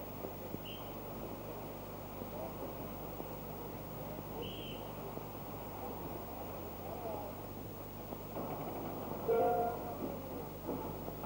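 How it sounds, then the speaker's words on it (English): A Festiniog Railway narrow-gauge train pulls out of Minffordd station in 1970, heard as a faint, steady low rumble with brief high tones and a slightly louder swell near the end. "Train goes on its way"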